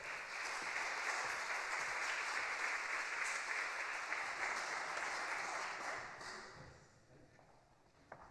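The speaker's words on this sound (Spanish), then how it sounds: "Un aplauso, por favor, para Camilo Prado." A conference audience claps for a speaker at an event in Latin America. The steady applause is fairly faint and even, then tapers off and fades near the end.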